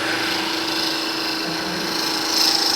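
Roughing gouge cutting a spinning wood blank on a lathe at a wood turners' meeting, giving a steady, loud, continuous whirring scrape that swells slightly near the end, with no talk.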